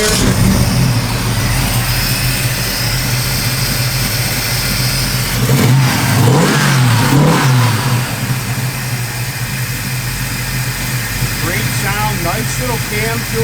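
A 1969 Chevrolet Camaro RS V8 engine with a lopey cam rumbles at idle nearby, loud and steady, with a brief rise in revs midway; voices can be heard over it.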